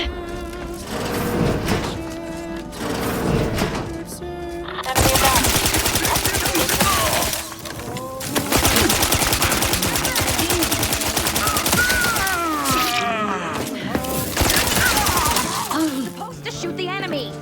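Dense bursts of automatic gunfire in the video game Outer Worlds 2 rattle almost continuously, mixed with game voices and effects.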